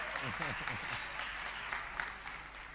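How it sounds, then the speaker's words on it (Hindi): An audience at a religious discourse claps steadily for a few seconds, the applause dense and continuous, with a voice speaking over it at the start. "अरे बोलना है तो तालियां बजा दो भाई।"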